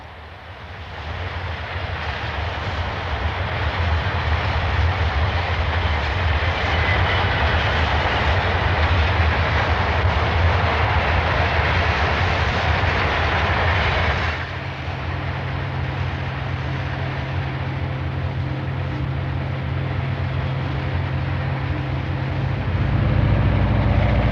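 Train 406, a 1950s passenger train, roars along at speed on an overnight run from Toronto, with a steady loud rumble and rail noise that shifts to a deeper tone partway through.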